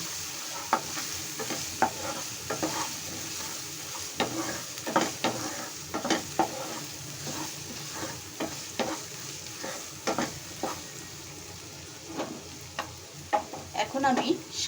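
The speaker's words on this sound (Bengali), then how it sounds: "এখন আমি সব মশলাটাকে একসাথে কষাবো মাছ দিয়ে।" Shrimp frying in a pan with spices, green chili and grated coconut, a steady close sizzle with repeated quick clinks and scrapes of a spoon stirring against the pan, and no speech.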